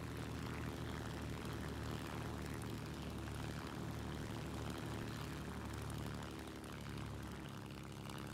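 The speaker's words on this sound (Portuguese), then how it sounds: "O motor está desligando." A German propeller warplane's engine in War Thunder drones steadily and loudly while losing power, easing slightly toward the end.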